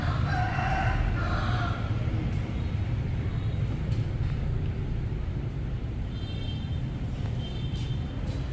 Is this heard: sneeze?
no